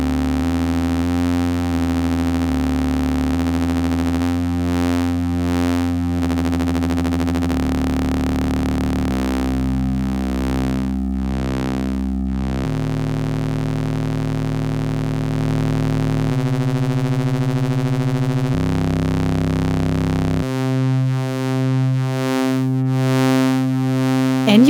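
Semi-modular synthesizer droning with a buzzy sawtooth oscillator routed into the filter cutoff, sustained tones shifting timbre and pitch in stepped changes, growing brighter and harsher toward the end, no voices.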